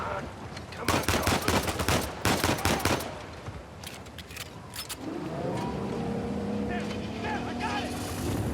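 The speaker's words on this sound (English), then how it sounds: "Sam, how's the engine?" A motorboat engine in Uncharted 4: A Thief's End roars steadily after a burst of rapid gunfire, the motor drone continuing loud and close under shouted voices.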